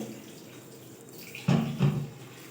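Tap water splashes briefly in two short bursts as raw chicken is rinsed at a kitchen sink, near and moderately loud against a quiet room.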